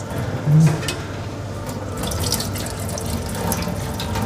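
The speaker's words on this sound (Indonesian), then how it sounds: "ini ya kita cuci pakai air panas ya jadi ini air panas ya" Hot tap water running into a sink while seafood is washed, a steady close rush and splash that stays fairly loud throughout, with no talk.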